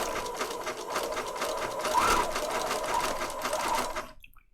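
A sewing machine zigzag-stitches around a paper patchwork tag in one continuous, fairly loud buzzing run that stops abruptly at the end.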